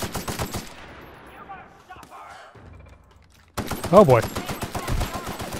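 Gunfire in The Outer Worlds breaks out in rapid automatic bursts, drops to a quieter stretch with scattered sounds, then comes back loud with dense shooting and a brief spoken exclamation.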